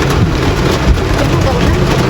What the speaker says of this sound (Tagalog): Ulan. Uy, ulan.